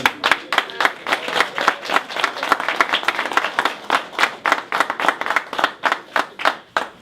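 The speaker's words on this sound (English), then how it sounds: "And let's hear it for John Shea." Audience at a union meeting breaks into steady, sustained applause for a speaker, dense clapping with regular sharp hand claps running throughout, close and fairly loud.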